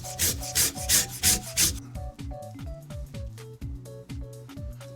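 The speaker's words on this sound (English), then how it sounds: "we're going to set about getting our microplane, and we're going to grate up these carrots" Carrots rubbed back and forth across a microplane grater, a steady run of close, rhythmic rasping strokes, loudest and quickest at the start before slowing into lighter, spaced scrapes.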